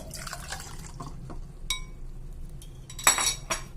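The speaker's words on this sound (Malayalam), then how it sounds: "ഇനി നമ്മളുടെ പോംഗ്രാനൈറ്റിൻ്റെ ജ്യൂസ് കുറച്ച് അതിലേക്ക് ഒഴിച്ചു കൊടുക്കാം." Pomegranate juice trickles into a glass holding a single ice cube, with a few soft pours and bright glassy clinks, the loudest near the end, in a quiet kitchen.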